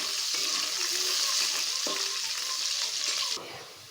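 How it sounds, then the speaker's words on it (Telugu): Onion and curry leaves sizzle loudly in hot oil in a pan for an ivy gourd and tomato curry, a dense continuous crackle with a few stirring scrapes, dropping abruptly quieter near the end, close and without talking. "ఉల్లిపాయ కరివేపాకు వేసేసానండి ఒకసారి కలుపుకున్నాం"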